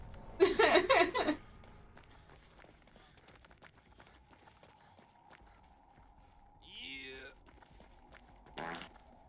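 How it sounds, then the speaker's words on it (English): Cartoonish fart sound effects in a video game, a loud burst of several rapid squelchy blasts at the start, then quieter squeaky game noises and a short rising effect later, with faint background sounds between. "Little fart sound effects, nice."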